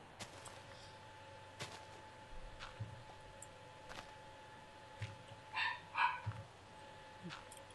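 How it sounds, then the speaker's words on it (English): A dog barks faintly in the background, a few short scattered yips with a brief cluster near the end, distant and quiet under a bright electronic game tone and occasional talk. "Dog on the background making noise."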